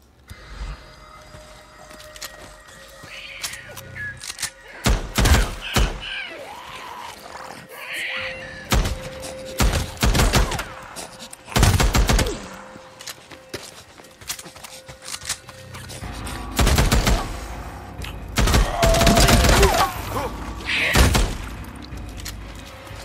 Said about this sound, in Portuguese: Tenho a mania de ficar sempre recarregando. Eu dou um tiro.